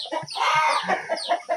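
Chickens cluck and squawk close by in quick, busy bursts, several birds overlapping with no one talking.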